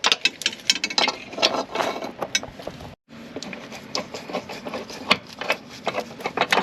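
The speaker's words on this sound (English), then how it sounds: "Just a ratchet wrench and just take it out." A ratchet wrench backs out 14 mm upper control arm bolts on a 2007 Honda Accord, giving fast, close, dense clicking in uneven bursts with one brief pause.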